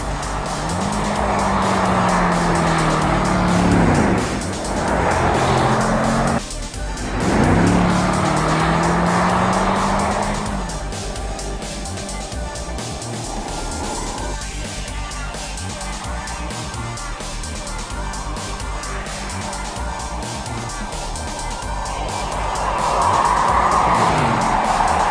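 A Jaguar XJ saloon drives and corners on roads in Iceland, with steady road and engine noise, a rising and falling engine note, and tire roar that swells again at the end, without talk.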